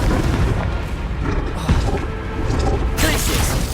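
Confringo spell blast in the Hogwarts Legacy video game, a loud, dense booming explosion with rumbling crashes that fills the whole moment and swells again near the end.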